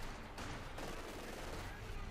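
MG42 machine gun fire in Company of Heroes 2, a continuous rattling burst of rapid shots blended into a dense, noisy battle din, under a voice talking.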